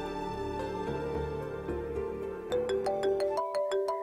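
A phone's ringtone plays a repeating electronic melody of bright tones, loud and alone, with no talking over it.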